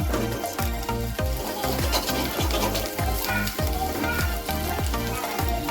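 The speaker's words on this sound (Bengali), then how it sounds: "এখন মশলাটা আমরা কষা করে নিচ্ছি" Onions and spices sautéing in a pan after black pepper has been fried, with a steady close sizzle and repeated stirring scrapes in a loose rhythm, no voices.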